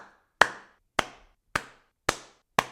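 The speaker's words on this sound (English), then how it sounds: "Please insert applause sound here." Five separate sharp claps spaced about half a second apart, standing in for a round of applause; crisp, close and isolated with silence between each clap, not a crowd.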